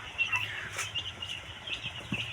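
Young day-old chicks of native village chickens in a rearing pen, chirping and clucking in soft, repeated bursts with brief flutters, fairly faint and continuous with no talking.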